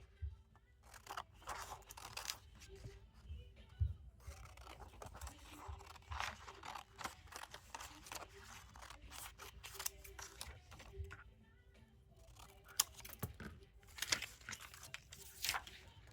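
Scissors cut through a paper sleeve cuff pattern in a series of crisp snips and rustles, irregular and close, with paper crinkling between cuts.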